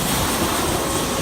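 Steady roaring engine noise from a military jet landing on an aircraft carrier deck, a loud continuous broadband rumble with no voices.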